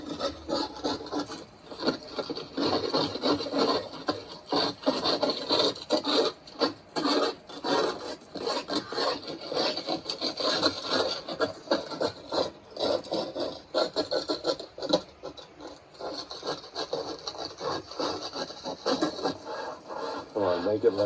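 A brush scrubs hard against a patched stucco wall on a house exterior, a steady rasping scrape in rapid back-and-forth strokes that keeps going with brief pauses, with voices talking in the background.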